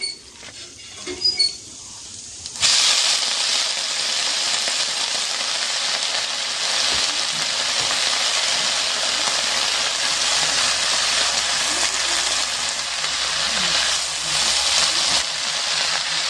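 Leafy greens frying in a pan over a wood-fuelled fire in a rural hut kitchen. After a brief quiet start, a loud, continuous hiss and crackle starts suddenly and keeps going steadily close by.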